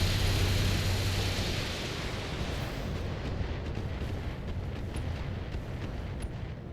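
Inferno missiles launch and burst in the BattleTech video game, a loud, dense roar of fiery explosions that fills the opening seconds and then settles into a sustained, slowly thinning rumble with scattered crackles, no voices.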